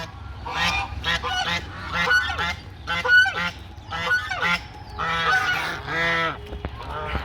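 A flock of domestic geese on a poultry farm honks loudly and repeatedly, with overlapping calls rising and falling in close, busy bursts throughout.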